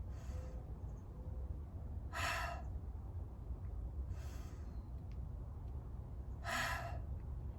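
Deep breaths drawn during a shoulder stretch for impingement or rotator cuff injury: three distinct breathy gasps and sighs, close and moderately loud, spaced a few seconds apart over a low steady background hum, with no talking.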